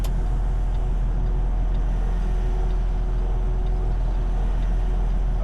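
A flatbed semi truck swinging through a left turn while leaving a delivery, its engine a steady, continuous rumble of road and traffic noise heard close with no talking.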